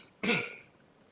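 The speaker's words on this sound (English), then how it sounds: "Oh, did I just cough?" A single short, sharp cough comes from one person close by, then quickly fades into a quiet room.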